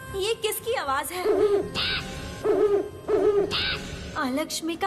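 An owl hoots repeatedly in a series of wavering, quavering calls, close and clear, with short pauses between bursts in a quiet setting.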